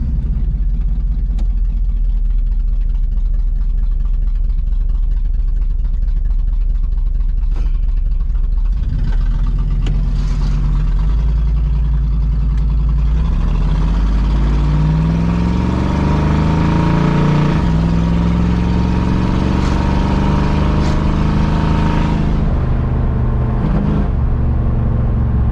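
A 1966 Buick Skylark engine runs loud and steady while the car is driven, a low rumbling drone that swells and rises in pitch as it picks up speed, with no talking over it.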